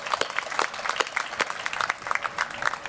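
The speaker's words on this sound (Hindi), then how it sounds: "इसके लिए ताली बजाओ." An audience at a company meeting of Ruchi Soya in Kakinada, Andhra Pradesh, breaks into applause. The individual claps are distinct and fairly close, forming a brisk, uneven patter that lasts about three seconds.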